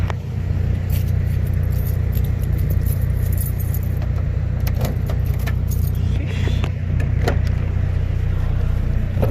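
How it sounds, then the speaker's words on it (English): A tuned car's engine idles steadily, a low constant rumble filling the scene nearby, with small rattles and faint clicks scattered over the hum. "Got the car running and everything."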